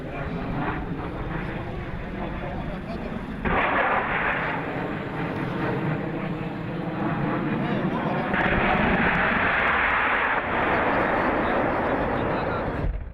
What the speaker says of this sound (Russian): По тревоге в воздух поднимаются боевые самолеты, которые первыми наносят огневой удар.